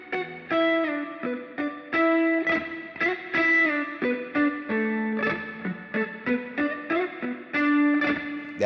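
Electric guitar lick, a quick rake up across the strings followed by a thumped note, played through heavy reverb and effects, with clear separate phrases ringing out alone.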